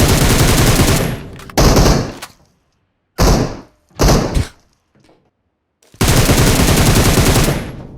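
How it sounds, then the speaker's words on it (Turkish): Bursts of rapid machine gun fire in a video game firefight, loud and close, come in several separate volleys with short silent gaps between them and no talk. "Çok saçma bir çatışma oluyor"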